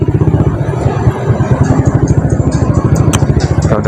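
Yamaha MX motorcycle engine running close by, a steady pulsing low rumble with rhythmic firing throbs and some mechanical clatter throughout.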